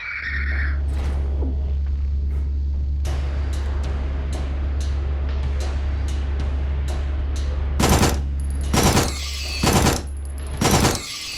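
Rapid SMG bursts fire in Signalis over a steady low hum, the shots quick and evenly spaced at first, then several heavier, louder blasts near the end.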